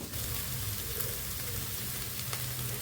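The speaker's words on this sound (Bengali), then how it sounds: "এরকম আস্তে আস্তে ভাজি করতে করতেই আলুটা সিদ্ধ হয়ে যাবে" Potatoes and radish sizzle slowly over low heat in a pan for a Bengali mulor ghonto, a steady close hiss of frying with faint stirring clicks and no voices.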